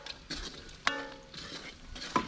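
Meat for chicken fried rice sizzles in a pan while a metal spoon stirs it, with sharp scraping clinks at intervals over a soft, steady frying hiss.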